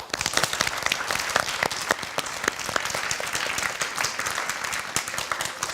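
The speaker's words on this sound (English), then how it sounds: "Let's give a big round of applause to Minhee as well." A small group applauds a contestant named Minhee on a job-competition show for a Hana Tour recruit position, with dense, steady clapping that stays loud and even throughout.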